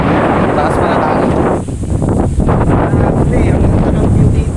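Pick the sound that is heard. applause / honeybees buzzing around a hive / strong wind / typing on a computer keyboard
strong wind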